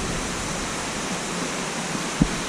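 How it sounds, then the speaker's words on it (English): Waterfall number three at Raven Cliff Falls, a steady broadband rush of falling water that stays constant throughout, with a brief soft knock near the end and no voices. "we're at waterfall number 3"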